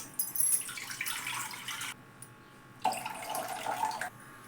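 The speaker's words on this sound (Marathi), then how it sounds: "पाणी घालते मी आधी कढाईमध्ये" Water runs and splashes steadily into a wok in two bursts, with a brief quieter gap between them; no voices.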